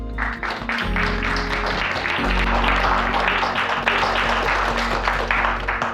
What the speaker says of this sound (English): give a round of applause for everybody that's been involved in this launch